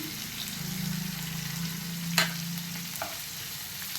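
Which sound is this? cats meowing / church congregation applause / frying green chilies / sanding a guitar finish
frying green chilies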